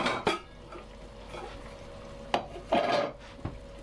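Utensil stirring lemon-flavoured food in a pan, with a few sharp clinks and scrapes against the metal over a soft sizzle, close and sparse, no voices.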